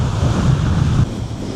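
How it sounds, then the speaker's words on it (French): Strong wind buffets the microphone on an Australian beach, a loud roaring rush mixed with surf that drops slightly partway through, with no voices. "Il y a un vent de malade."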